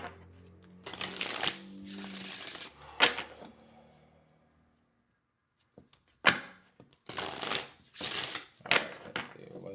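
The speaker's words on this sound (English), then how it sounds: "let's go ahead and finish shuffling here" Tarot cards shuffled close up in several crisp riffling bursts, separated by pauses and a quiet stretch, with soft handling noises between.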